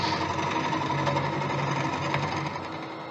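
A gouge hollows a wooden bowl on a lathe, giving a steady, buzzing, rattling cut with fine rapid chatter that eases a little near the end, with no speech over it.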